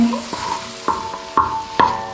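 Macaroni with chili sauce and soy sauce sizzles in a pan while being stirred, a steady fry broken by several sharp scraping strokes of the spoon, close and fairly loud.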